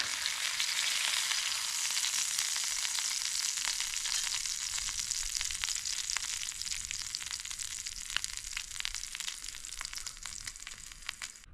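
Food toasting in a small cast iron pan, a steady, bright sizzle and crackle with dense popping, close and continuous throughout, fading slightly toward the end.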